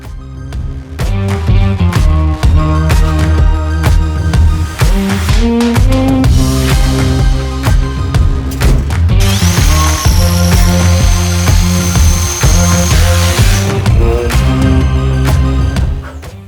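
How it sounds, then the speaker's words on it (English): A power drill bores through a wall for an EV charger cable into the consumer unit, whining loud and close in long continuous bursts that shift in pitch as the bit bites. "we just drilled through to put the cable through now into the consumer unit"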